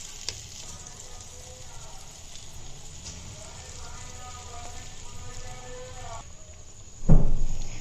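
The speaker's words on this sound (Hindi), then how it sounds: "ये देखें, मंगोचियों का एक बैच हमने फ्राई होने के लिए डाल दिया है ऑयल के अंदर।" Moong dal mangochiyan, small lentil fritters, frying in hot oil: a steady, close sizzle and crackle runs throughout, with a louder burst near the end, as a person talks over it.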